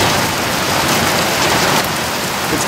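Heavy pouring rain near a duck pen, a loud, dense and continuous roar of drops hitting surfaces that holds steady throughout with no voices.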